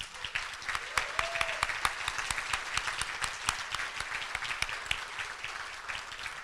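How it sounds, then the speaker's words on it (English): A room at a Rotary meeting breaks into applause for Ty Handy and the Iroquois and Western scholars, with steady, dense clapping throughout and sharp individual claps standing out near the front. "And a final round of applause to our Iroquois and Western scholars."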